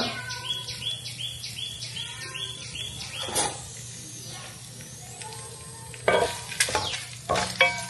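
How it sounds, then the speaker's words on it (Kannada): Tempering of curry leaves, urad dal and chana dal crackles and sizzles in hot oil, a steady spattering hiss with occasional stirring scrapes, and faint birdsong in the background. "ಅಲ್ಲಿವರೆಗೆ ನಾವು ಈ ಒಗ್ಗರಣೆಯನ್ನ ಚೆನ್ನಾಗಿ ಹುರ್ಕೊಳ್ಳೋಣ"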